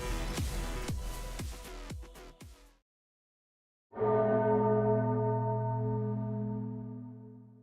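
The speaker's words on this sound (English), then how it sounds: "In this final moment, Anduin hears a bell clear as day." A bell rings during an Arknights game story: several sharp clanging strikes in the first three seconds, a short silence, then one loud, long ringing toll that hums and slowly fades.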